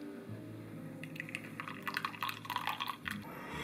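Brewed coffee, boiled and steeped with hot water, is poured into a small cup, giving a soft trickle and light drips that build in the second half, up close and alone.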